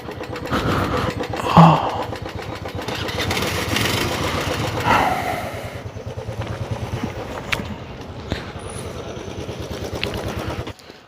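A motorcycle engine starts and idles steadily while the bike is parked at a paid parking lot in Kasauli, staying close and moderately loud for several seconds before cutting off near the end.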